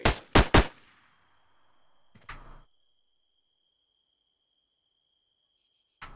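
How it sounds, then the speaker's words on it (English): Gunfire in the video game Arma 3 comes as three sharp, loud shots in quick succession, then a quieter burst a moment later, with a thin steady tone lingering afterward and a final click at the end. "Hey, he's shooting at me."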